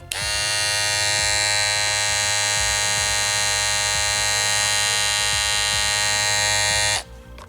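Andis Outliner and Slimline Pro Li cordless hair trimmers buzz with a steady, loud electric motor whine, running continuously for about seven seconds before cutting off abruptly, with no talking.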